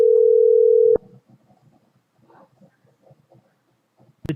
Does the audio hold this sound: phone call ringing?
yes